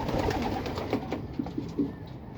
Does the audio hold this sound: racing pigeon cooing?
yes